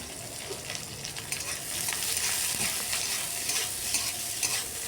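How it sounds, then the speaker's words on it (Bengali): Large chunks of onion and garlic fry in mustard oil in a wok, a steady close sizzle with stirring clinks and scrapes throughout, no voices. "পেঁয়াজ রসুনটাকে একটু হালকা ভেজে নিচ্ছি।"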